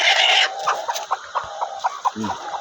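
Brooding hens in a backyard chicken coop: a burst of louder squawking, then a run of soft, close, irregular clucks and grunts, with no talk.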